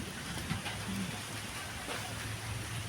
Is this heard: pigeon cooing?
no